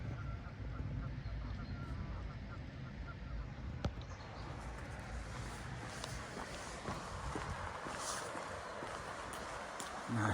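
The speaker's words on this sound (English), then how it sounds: "Geese are singing to each other." Geese honking back and forth in woodland near a small bridge and holding pond, a steady chorus of calls at middle distance over constant outdoor background noise and occasional footsteps.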